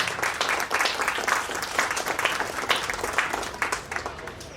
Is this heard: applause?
yes